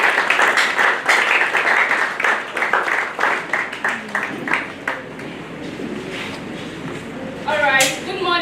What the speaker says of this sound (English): can we give Dollar Foundation another round of applause?